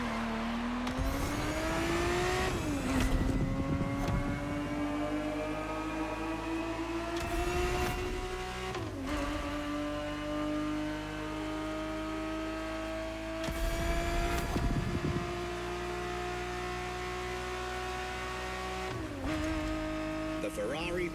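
Ferrari 365 GTB4 racing engine in The Crew Motorfest game, a steady high-revving wail rising through the gears with several shift breaks, heard under a narrator speaking throughout.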